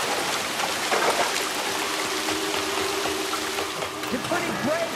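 Splashing and sloshing of water as a character wades through it in L.A. Noire, a steady broadband wash with faint tonal game sounds and light voice underneath.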